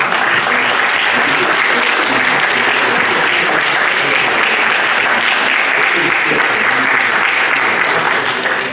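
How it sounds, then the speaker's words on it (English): Loud, dense audience applause for the candidates at the close of an evening candidate forum, a steady wall of clapping from a large crowd that holds at full strength throughout. "let's give a round of applause for all of the candidates"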